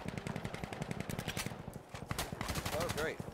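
Rapid machine-gun fire in the shooter Insurgency Sandstorm, quick bursts of shots crackling in steady succession, with a voice speaking over part of it.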